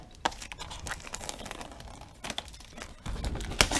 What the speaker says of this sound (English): Now we can peel this whole entire thing off.